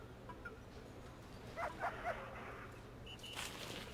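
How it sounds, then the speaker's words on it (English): A dog in the prison-management game Prison Architect gives a few short yips and barks around the midpoint, set against a steady low game hum with a brief tonal chime near the end. "Okay, we just had a dog there."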